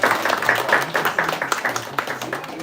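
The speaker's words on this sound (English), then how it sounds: "Big round of applause to you." A school audience claps for a speaker at a public speaking competition, with a short burst of dense, close applause that stays steady throughout.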